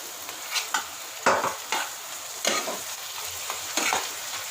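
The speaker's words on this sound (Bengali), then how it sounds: "এবার মশলাটা ভালো করে কষিয়ে নেব।" Spice paste sizzles and fries in a pan for a Bengali kankrol curry while a spoon scrapes and stirs it in several short, distinct strokes, close and moderately quiet.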